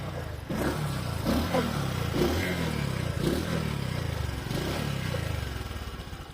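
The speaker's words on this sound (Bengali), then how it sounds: "গাড়িটার সাউন্ডটা যদি আপনাদের একটু শোনানোর চেষ্টা করি" A Bajaj Discover 125 motorcycle engine idles steadily and close by, with a continuous low throbbing hum and faint mechanical clatter throughout, and no voices over it.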